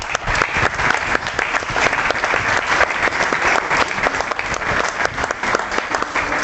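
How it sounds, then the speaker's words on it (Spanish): An audience at a talk on Afro-Mexican history gives a strong round of applause, loud, dense and sustained clapping from many hands at close range throughout, with no speech over it. "Quiero que le brindemos un fuerte aplauso."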